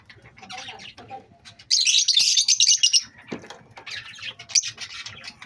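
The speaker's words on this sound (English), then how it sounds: "These my lovebirds, different color of lovebirds." Pet lovebirds and cockatiels in a shared aviary chirping close by, with busy overlapping tweets and one burst of loud shrill calls in the middle.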